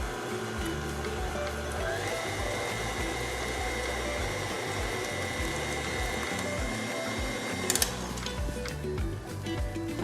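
Electric stand mixer whirring steadily at low to medium speed while five eggs are beaten one at a time into white cake batter, a continuous close motor drone with a brief clink near the end.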